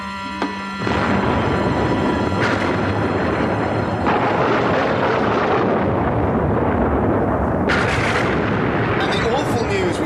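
A sudden heavy blast erupts at a printworks after a brief quiet moment and becomes a continuous loud roar and rumble of fire, with further surges of noise layered on top.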